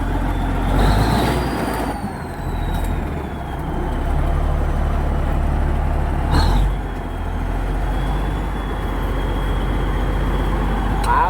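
A bulldozer revived after seven years idle runs its engine with a deep, steady diesel rumble, close and loud, with a whining high tone and a couple of sharp hissing bursts along the way.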